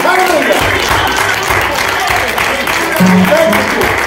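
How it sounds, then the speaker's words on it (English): Congregation clapping hands during a lively Sunday morning worship service, steady dense clapping throughout with voices and shouts mixed in. "Let's give God a good old fashioned hand clapping"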